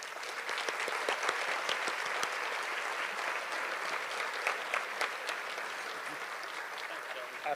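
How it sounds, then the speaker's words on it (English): An audience applauds a speaker coming on stage at a community awards ceremony, a steady, even wash of many hands clapping that holds for several seconds without letting up. "Please join me in a round of applause while we welcome John to the"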